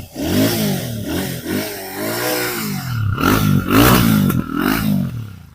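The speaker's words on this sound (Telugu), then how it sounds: "అలాగే ఒకసారి నేను రెవ్ చేస్తాను." A 2025 Royal Enfield Classic 650 twin engine revved several times from idle, its exhaust note rising and falling in loud, close throttle blips with a rumbling, slightly clattery tone.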